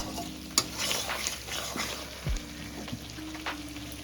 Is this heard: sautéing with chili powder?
yes